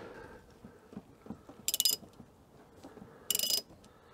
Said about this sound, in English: let's crank this over till that one hits stop dead center